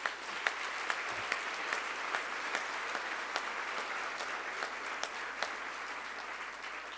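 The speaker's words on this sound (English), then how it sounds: "so let's give them a round of applause." Audience at a gala dinner gives a round of applause, a soft, even wash of many hands clapping at a distance, with occasional sharper claps popping out.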